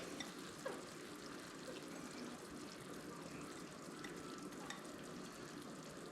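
Crushed tomato sizzles in a hot pan for pasta all'Amatriciana, a steady, faint hiss and crackle of frying that runs without pause, with no voices over it.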